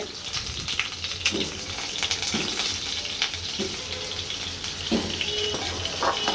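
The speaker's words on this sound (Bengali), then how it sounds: "প্রথমে আলুগুলো আমি ভেজে নিচ্ছি, লাল লাল করে ভেজে নিব" Salted potato pieces frying in oil, a continuous close-up sizzle and crackle with a low rumbling hum beneath and a few splashy bursts, no speech.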